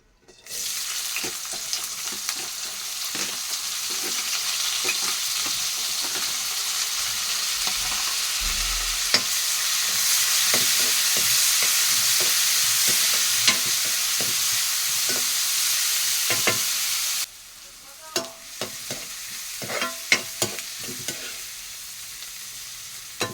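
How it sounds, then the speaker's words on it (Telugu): Onions frying in a pan together with tomatoes and broad beans, giving a steady, close sizzle with scattered stirring clicks and scrapes; the sizzle drops away near the end, leaving occasional utensil taps. "మారిపోయిన ఉల్లిపాయలు బాగా వేగలేదు"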